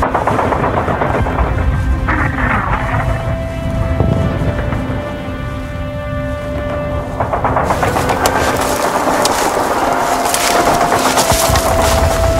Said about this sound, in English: You hardly notice the gunfire anymore.